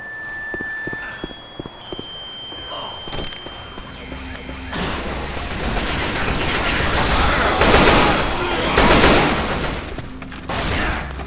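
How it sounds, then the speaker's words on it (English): Bursts of automatic gunfire in the zombie shooter Left 4 Dead 2, rattling loud and close in a sustained volley with footsteps, building to a dense fusillade in the second half. "Stop shooting me!"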